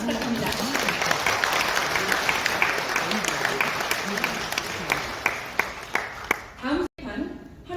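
Audience applause at an international academic forum in a Seoul hotel ballroom, a sustained wash of many hands clapping that thins out toward the end, with a voice speaking over it.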